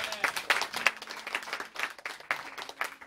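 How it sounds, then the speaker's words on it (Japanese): Audience applause at a live music show, a modest crowd clapping in uneven bursts of claps, fairly close and lively without talk. "今日のあの出演者の方々に皆さんもう一度大きな拍手"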